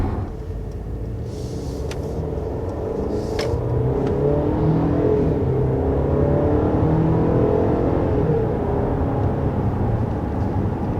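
A 2021 Audi Q5 with a 2-liter turbocharged four-cylinder and 12-volt mild hybrid system accelerating, a steady, fairly quiet engine hum and road rumble rising smoothly in pitch, heard from inside the cabin with a few faint clicks.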